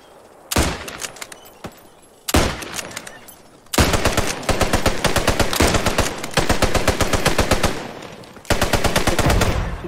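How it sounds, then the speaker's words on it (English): Rapid machine-gun bursts and single gunshots from the World War II shooter game Post Scriptum, loud and close, arriving in several long volleys separated by short pauses. "I'm gonna try shooting."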